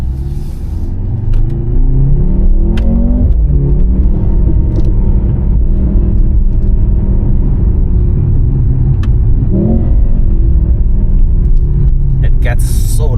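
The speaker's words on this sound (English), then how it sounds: "you can still hear the exhaust pretty clearly, and it's pretty loud." Inside the cabin of a Mercedes-AMG C43, the exhaust roars loudly as the car accelerates through rising gear sweeps, with a clear shift around the middle, over a steady road rumble on rough tarmac.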